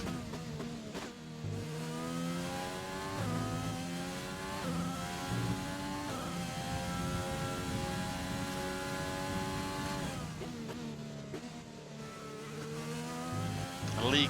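A McLaren Formula race car engine in a racing video game at Bahrain howls and revs through repeated gear changes and corner slowdowns, sustained and fairly close, with a commentator talking over the engine.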